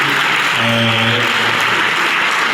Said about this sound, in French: Nous accompagnons par les applaudissements le professeur Nico Kimouni.